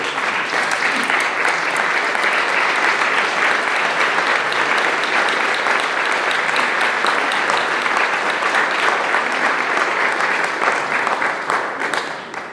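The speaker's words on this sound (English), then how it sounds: "Let's stand and give our outgoing president a round of applause" A standing audience at a sheriff's office oath-of-office meeting applauds their outgoing president, steady dense clapping that holds evenly for about twelve seconds before tapering at the end.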